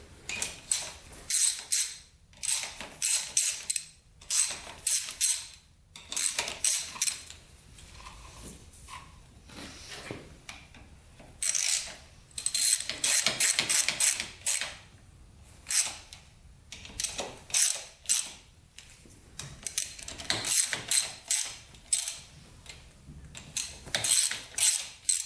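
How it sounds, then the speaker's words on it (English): A ratchet wrench loosens the handlebar clamp bolts on a worn Yamaha Warrior 350 quad, with close, bright clicking in quick bursts separated by short pauses. "let's loosen up these bolts and put the handlebars the way they're supposed to be"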